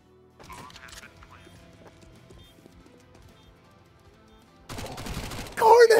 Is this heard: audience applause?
no